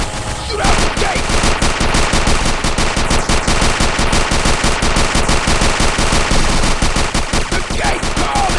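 Rapid automatic gunfire in GTA San Andreas blasting at a gate near an old sewer tunnel, a loud, dense, continuous burst of shots lasting several seconds.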